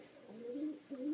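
A pair of parlor roller pigeons coos softly and close by, a short throaty rolling call that rises and dips twice.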